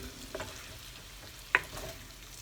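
Garlic sizzling in a pan for truffade auvergnate is stirred, giving a steady frying hiss broken by a few scraping strokes and one sharp clink near the end, close and without talking.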